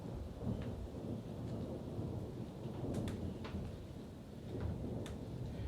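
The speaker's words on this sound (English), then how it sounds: "Here comes the rain." Steady rain hisses continuously with thunder rumbling underneath, and several sharp crackles poke through the downpour; no one speaks.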